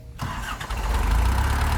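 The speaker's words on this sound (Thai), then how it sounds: "ดับเครื่องเดี๋ยวสตาร์ทใหม่ให้ดู" A used Kubota L2602DT four-cylinder tractor engine cranks and catches after a brief quiet moment, then settles into a loud, steady diesel idle close by.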